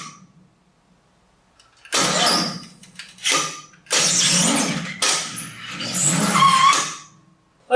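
A 1967 Chevy C10 Stepside barn-find pickup with a swap-meet engine that won't run, cranking in several loud, rough bursts with gaps of quiet between them, churning without catching.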